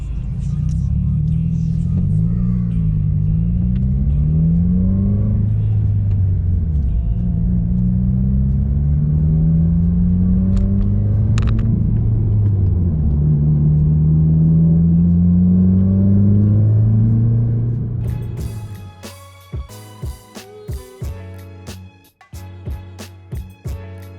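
A car with a broken front lip rumbles steadily with low drone and rising, falling pitch as it cruises, then cuts to bursts of clattering sound near the end.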